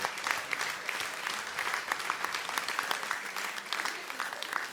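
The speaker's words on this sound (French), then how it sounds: "Et là, on peut applaudir" A festival grand-opening crowd breaks into applause, many hands clapping in a lively uneven patter with distinct sharp claps standing out, sustained and moderately loud.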